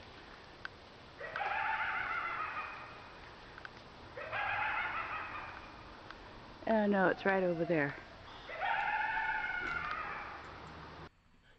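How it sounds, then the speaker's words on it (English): Rooster-like bird calls in a forest: several drawn-out, crowing cries repeated at intervals, fairly clear against quiet background, with a person briefly speaking between calls. "To me, it sounds like some kind of a bird, something like that."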